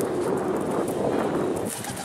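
Bursa tumbler pigeons cooing, a steady soft low murmur of overlapping coos that carries on without a break, close by and fairly loud.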